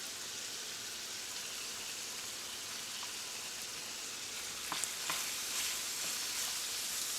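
Mushrooms sizzle and fry in a pan for a chicken and shrimp lo mein, making a steady, soft hiss with a few brief crackles and stirring scrapes near the end.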